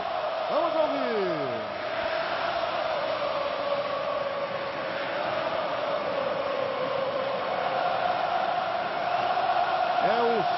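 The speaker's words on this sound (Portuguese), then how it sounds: "a torcida do Flamengo canta no Maracanã" Flamengo supporters singing at the Maracanã stadium during a 2009 Brasileirão match against Coritiba, a massive sustained chant droning steadily from the stands with occasional whistles and shouts.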